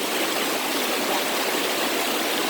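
A waterfall rushes in a constant, broad roar, loud and close with no letup and no voices.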